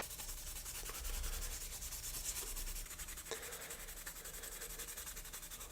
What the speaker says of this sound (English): I think it's Scotch-Brite time.